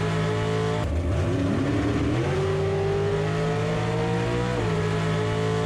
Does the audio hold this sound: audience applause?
no